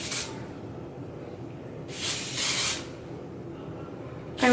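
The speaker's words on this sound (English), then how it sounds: "I'm just gonna go ahead and spray with whatever I've got left in my hairspray." Hairspray is sprayed onto curled short hair in three short hissing bursts, one at the start, a longer one midway and one at the end, close and fairly loud with no talk.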